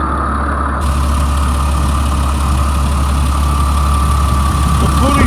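A 2004 Blue Bird All American 72-passenger school bus engine idles steadily, a constant low rumble with a faint whine, heard close and unbroken, with the AC compressor belt missing.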